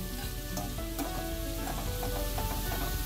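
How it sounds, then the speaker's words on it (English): Sausages and potatoes sizzle steadily as they brown in a frying pan, a continuous crackling hiss with scattered pops and no talking. "We're gonna let our sausages and potatoes brown here for another 3-4 minutes"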